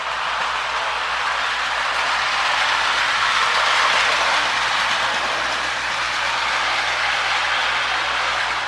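A Lionel prewar Streamliner Jr toy train powered by a Marx E7 motor runs continuously around the track, making a steady, fairly loud whirring rattle with faint clickety-clack that barely changes in level.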